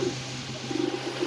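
Pigeon cooing from a breeding pair of male and female pigeons, soft low coos in short repeated bursts, close by and quiet against a steady background hum.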